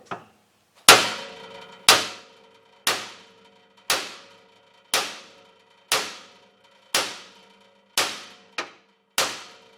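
Heavy hammer blows strike metal on a Frantom rock saw's arbor bearing about once per second, each a sharp ringing clang that fades before the next, ten or so hits in a steady rhythm.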